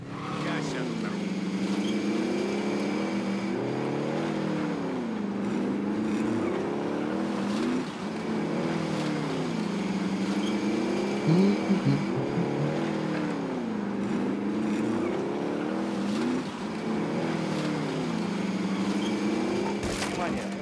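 A vehicle engine drives steadily in Call of Duty: Warzone, a loud continuous motor drone with rising and falling revs throughout, under game radio chatter and voices.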